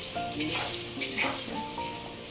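Ghugni cooks in a kitchen pan with a continuous sizzle, as a spatula scrapes and stirs in a few quick, close strokes.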